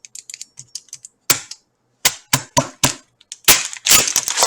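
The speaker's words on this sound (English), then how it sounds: "We're going to cut this onion." A knife cuts an onion with a run of crisp, sharp taps and crunches, the first few light and close together, then heavier separate cuts and a dense burst at the end.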